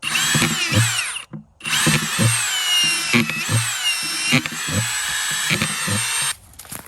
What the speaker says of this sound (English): it's going to be drilling holes in the bottom of this